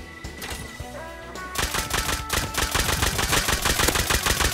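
Rapid bursts of gunfire in the video game Rust, a few scattered shots followed by sustained automatic fire with loud, evenly spaced cracks and clattering.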